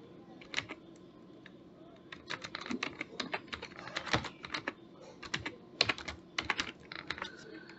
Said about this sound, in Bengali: এখন আমি বাংলা টাইপ করব